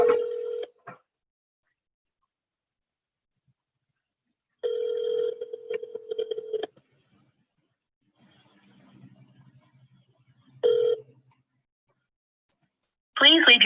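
Telephone touch-tone dialing beeps sound in short bursts, followed by ringback tones with silent gaps between them, and a brief voice at the end on the line.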